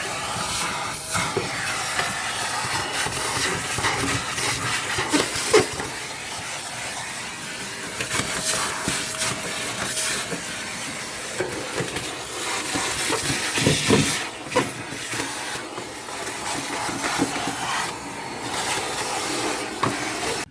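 A log burner vacuum hoovering ash and debris out of a stove in a garage: a steady, loud airy hiss and roar running the whole time, with occasional rattling knocks as bits are sucked up.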